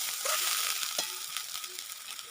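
Onions fry in a pan with a splash of water added, giving a steady close sizzle with a few brief stirring scrapes over a couple of seconds.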